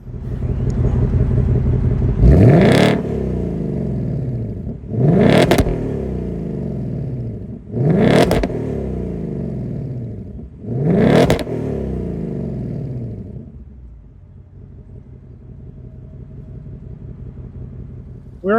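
A 2024 Ford Mustang GT Premium's 5.0-liter Coyote V8 with optional active valve exhaust is revved four times at even intervals; each loud, rising bark falls back to a rumbling idle, which then settles lower and quieter.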